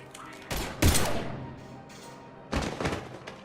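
Video game gunfire comes in two loud bursts of rapid, heavy shots with thumping impacts, separated by a lower rumbling lull.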